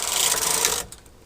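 A knitting machine carriage sliding across a row, a brief raspy rushing sweep that cuts off abruptly, then near silence.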